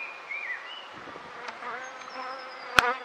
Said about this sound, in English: Now these bees are getting a little bit frisky